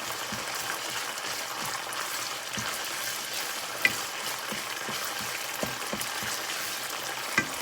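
Salmon flakes and chili ginger paste sizzle softly in a pan over low heat, a steady hiss broken by soft scraping stirs and occasional small pops, close and moderate in level.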